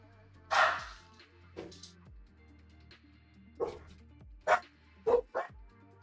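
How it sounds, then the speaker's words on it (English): Several dogs belonging to a streamer bark and yip in loud, irregular bursts, one sharp volley near the start and then a rapid cluster of barks toward the end, with quieter gaps between them. "I gotta go figure out what my dogs are going insane about."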